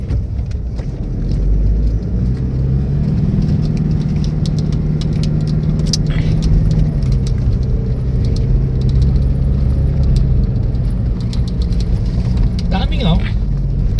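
Jeepneys idling and rolling along a road, a steady mid-pitched engine rumble with traffic noise and occasional rattles, people talking over it throughout.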